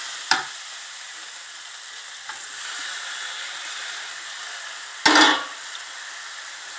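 Tomatoes frying with fenugreek leaves in a pan give off a steady, close sizzling hiss that holds throughout. Two sharp scraping stirs cut through it, one near the start and a louder one later, and no one speaks.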